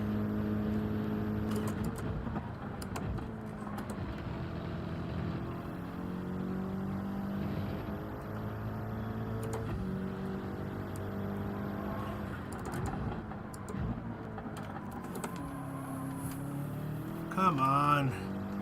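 A BMW M6 race car in Gran Turismo 7 drones on steadily at high revs, its engine note rising and falling through gear changes over a constant background hum, with a brief louder burst near the end.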